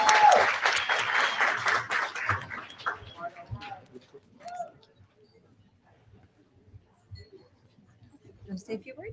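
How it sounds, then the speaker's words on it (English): An audience at a banquet breaks into applause that starts loud and close, then tapers off into quiet with scattered small noises and brief talk. "join me in a round of applause."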